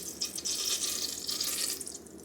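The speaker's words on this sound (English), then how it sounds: "you can hear that hissing and popping I was talking about" Butter browns in a pan for brown butter shortbread, giving a continuous close, bright hiss with faint popping that fades slightly near the end.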